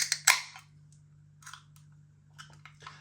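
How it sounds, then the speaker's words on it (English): A can of Stone & Wood Hinterland Big Pale Ale cracked open: a sharp metallic click and hiss near the start, followed by a few faint clicks and rustles against a low steady hum. "A little bit of smoke on the can opening."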